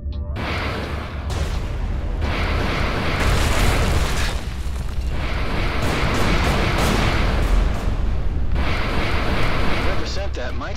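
Missile explosions in the Everspace 2 space combat game, a continuous loud, dense roar of booming blasts that surge and swell throughout, with rumbling low end and bursts layered over one another.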